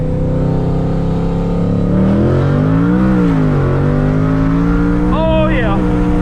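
A 900 whp car with an ESS G4 intercooler pulling at wide-open throttle in third gear, its engine loud and close from inside, the pitch rising steadily, then dropping briefly before a quick climb near the end.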